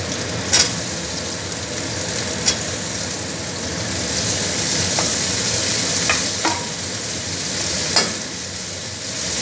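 Onions shallow fry in a pan for mutton curry, a steady hiss and sizzle running throughout, broken by a few sharp scrapes and clicks of stirring.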